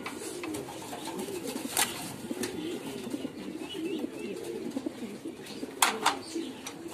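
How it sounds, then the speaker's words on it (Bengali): Pigeons of many breeds, including Lahori and fancy varieties, coo softly and repeatedly on a pigeon farm, with occasional wing flaps and faint chirps mixed into a quiet, steady background. "এই খামারে সব জাতেরই কবুতর আছে।"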